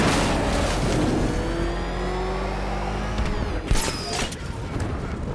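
A car-tank vehicle drives in a Batman Arkham video game, its engine droning with a steady mechanical whine and rising tones, then a sharp clatter near the end. A faint voice may sit under the engine.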